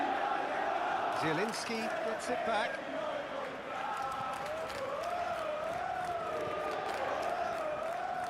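A stadium crowd murmurs and swells through a PES 21 Serie A football match between Inter and Roma, a steady roar under the commentator's voice with brief lifts of cheering.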